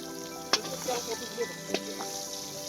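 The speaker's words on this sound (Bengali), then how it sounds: "এদিকে পলাশ পাপড় ভাজছে" Papad frying in hot oil at an evening picnic cookout, a steady close sizzle with a few sharp crackles and pops standing out.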